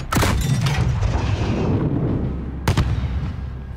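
A heavy explosion rings out in the Call of Duty: Modern Warfare campaign, a loud boom with a long rumbling tail, followed moments later by a second sharp blast.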